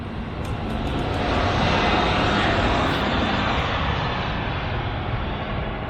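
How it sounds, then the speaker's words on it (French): Small airplanes pass overhead near Paris at night, a steady loud engine drone and rushing roar that swells and holds throughout with no talk. "Voilà, des petits avions au-dessus."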